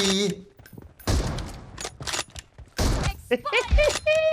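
Gunfire in the PUBG Mobile video game: bursts of rapid shots and heavy thuds mixed with game sound effects, loud and close, with people talking over them.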